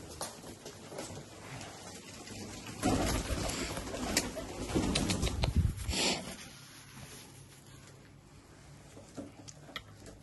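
Golden or Sialkoti pigeons cooing softly, low repeated coos with faint rustling and bird calls in a quiet setting, fairly distant and low in level.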